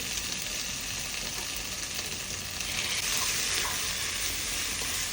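Tomato sautés in fried onion and masala for Thalassery mutton biryani, a steady, dense, close-up sizzle that holds throughout and grows slightly louder partway through. No talking.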